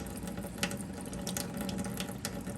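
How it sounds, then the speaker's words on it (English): Water runs steadily from an outdoor spigot while tomato seeds are decanted in a container, a continuous close splashing stream with no talk. "Keep a close eye when you're decanting this, pouring the water off."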